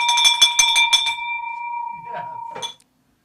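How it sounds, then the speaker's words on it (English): A bell rung to celebrate a closed real estate deal, a bright sustained ringing tone with several struck chimes, fading out under excited voices. "There's that bell."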